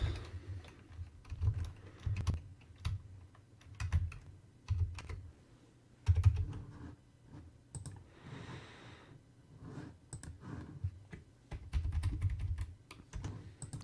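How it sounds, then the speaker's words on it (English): Typing on a computer keyboard during a solo live stream, a steady run of near, fairly quiet key clicks in uneven bursts with brief pauses, no talking over it. "Typing."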